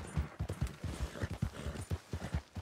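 Horse hooves clop in the video game Red Dead Redemption 2, a quick, even rhythm of close, solid hoofbeats that runs without a break and carries no talk over it.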